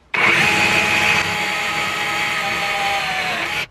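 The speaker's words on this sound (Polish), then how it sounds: "Idzie dobrze, wiertarka nie zwalnia, dociskam ją mocno." Kaltmann Titanium cordless hammer drill boring a hole under firm pressure, a loud steady whine that holds speed without slowing from start to finish, cutting off abruptly at the end.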